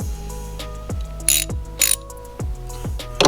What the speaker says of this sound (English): And a 10mm socket here.